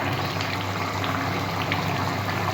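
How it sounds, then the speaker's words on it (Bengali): Raw mustard oil goes into a simmering chara pona fish curry with eggplant, under a steady, close bubbling sizzle that stays even throughout. "আর নামাবার আগে একটু কাঁচা সর্ষের তেল দিচ্ছি"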